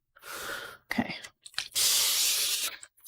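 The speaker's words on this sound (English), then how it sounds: "Spray that well." A spray bottle mists water onto an acrylic landscape painting: a few short hissing bursts, then one longer spray, close and clear with quiet breaths between.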